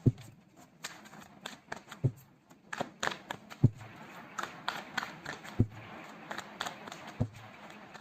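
Tarot cards being shuffled and pulled, a crisp run of riffling, flicking and slapping card sounds with sharp taps scattered throughout, close and fairly quiet, with no talking.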